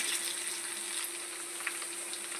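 Curry leaves sizzle in hot oil for tamarind pulihora, a steady broadband crackle and hiss running evenly throughout with a faint hum and a few small pops, no voices present.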